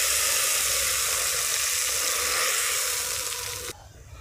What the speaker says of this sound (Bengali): সেই তেঁতুল গোলা জলটা আমি এই তেলের উপরে আস্তে আস্তে করে দিয়ে দিলাম।